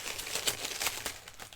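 Original tissue paper crinkles and rustles as it is unwrapped, a close series of papery crackles and crumpling bursts of varying loudness.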